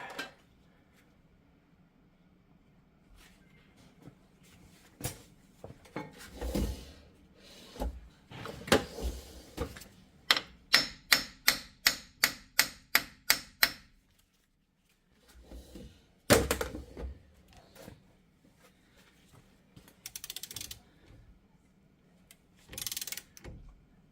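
A hammer taps the front axle of a Jeep Wrangler. Scattered metallic knocks lead into a quick, evenly spaced run of about ten sharp strikes, followed by a few more isolated hits in a quiet garage.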